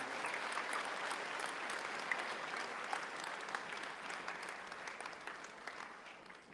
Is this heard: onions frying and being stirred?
no